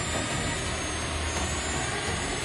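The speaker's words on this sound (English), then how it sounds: "The engines are a 2x70mm EDF, driven by the APD controller" A 3D-printed RC F-35B STOVL model jet with twin 70mm electric ducted fan engines on an APD controller gives off a loud, steady, close rushing whine that holds without a break and has no voices over it.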